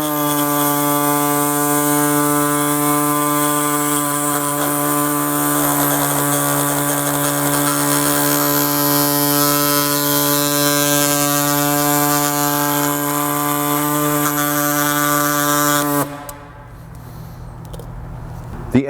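A power tool cuts through a plastic rear trim piece on a Honda Odyssey with a steady, loud, droning whine that holds for about sixteen seconds before stopping abruptly, leaving quiet room noise.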